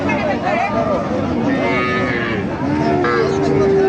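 Cattle at a rural cattle market in Panchbibi, Bangladesh, with local desi cows and heifers for sale, moo in several drawn-out calls over a steady hubbub of traders talking nearby.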